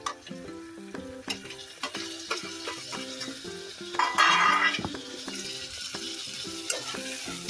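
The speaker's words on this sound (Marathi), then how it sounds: "आता टोमॅटो घालून घेऊया" Chopped tomatoes are stirred into onions and ground masala frying over low heat for a chickpea usal, with steady sizzling under rhythmic spatula scrapes and knocks on the pan, close and loud, with no voices.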